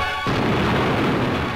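Tarzon guided bomb from a 1952 U.S. test striking its target, heard as a sudden heavy boom that swells into a loud, sustained rumbling roar, with the harsh, dense quality of an old newsreel soundtrack.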